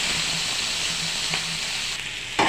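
Squeezed ivy gourd pieces frying in a pan give a steady close sizzle throughout, with a brief louder crackle near the end.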